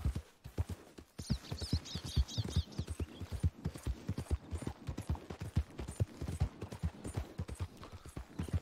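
Horse hooves clip-clop steadily in the Red Dead Redemption 2 video game, a close, rhythmic run of dull thuds lasting throughout, with a brief whinny-like sound early on.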